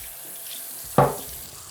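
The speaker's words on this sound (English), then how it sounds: "turn the tap on and rinse every single one of these products" A bathroom sink tap turned on to rinse off cleaning products lets out a sudden gush of water about halfway in. The splash is close and fairly loud, then fades into a steady run over a quiet room.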